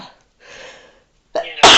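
A person sneezes loudly near the end, a sharp burst after a short indrawn breath, with quieter voice sounds and a pause before it.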